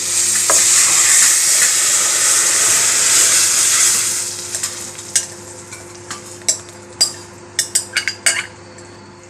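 A strained, smooth gravy of tomato, capsicum, ginger and garlic paste hitting hot butter, giving a loud hiss that fades after a few seconds, followed by a run of spoon clinks and stirring scrapes against the pan.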